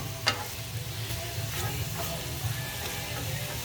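Ground beef fries in a pan with a steady, close sizzle and crackle, stirred now and then with soft scraping and a few sharper pops.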